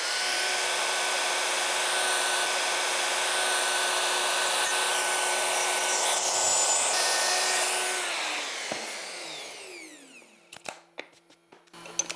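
A plunge router cuts one full pass around a bow tie jig template with a 3/8 bushing, a loud sustained whine with steady tonal hum that winds down about two-thirds through, followed by a few clunks and taps.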